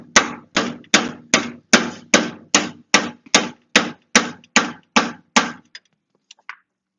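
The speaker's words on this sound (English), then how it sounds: "And then you give it a little tappy." Steady, rhythmic hammer blows on metal, about fourteen evenly spaced strikes, loud and close, tapping a CV axle into its splines on a 2009 Kubota RTV 500, ending with a couple of faint clinks.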